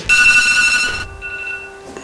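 A phone alarm rings with a bright, buzzing electronic tone that cuts off after a second, leaving a fading ring in the room.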